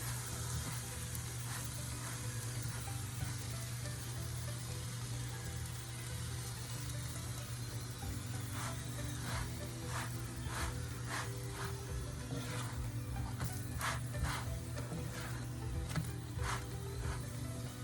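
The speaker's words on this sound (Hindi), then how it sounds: "इसको फ्लिप करके दूसरी साइड से पका लें।" A roti cooking on a hot pan sizzles steadily after being flipped, a continuous close frying hiss with soft crackles and light scraping taps toward the end, no talk.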